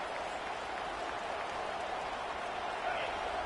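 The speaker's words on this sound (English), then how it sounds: "Listen to the crowd energy here in the early going." Steady roar of a stadium crowd in the EA Sports College Football video game during a playoff game at an on-campus venue, a continuous broad wash of cheering noise without breaks, fairly distant and even in level.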